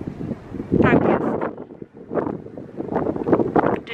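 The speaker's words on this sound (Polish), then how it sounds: "Czyli cholernie wietrznie." Strong gusting wind buffeting the microphone outdoors, loud and uneven rumbling bursts that swell and drop over several seconds.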